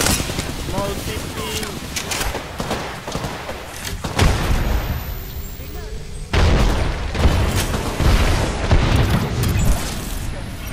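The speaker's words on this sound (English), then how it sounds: "You know why the enemy's nade looks so weak?" A heavy grenade blast in Apex Legends lands as a deep boom, followed by a second loud explosion a couple of seconds later, amid scattered gunfire while players talk over the action.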